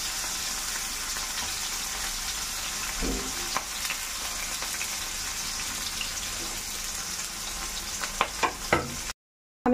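Garlic pieces frying in hot oil for khichuri make a steady close sizzle and crackle with a few sharper pops near the end, and no one speaks.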